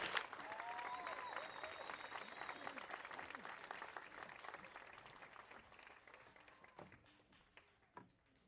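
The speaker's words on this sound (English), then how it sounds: "Please give a big round of applause for them" An audience at an 8th grade graduation claps loudly with a few whistles at first, then the applause thins and fades to scattered claps near the end.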